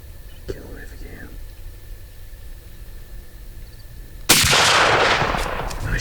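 A single loud gunshot from a deer-hunting game with an Iowa youth season setting, a sharp blast followed by a long echoing tail after a quiet stretch with faint whispering.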